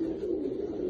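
A pigeon coos on a rooftop in the rain, giving a low, soft, steady hum-like call that is close and faint, with no talk.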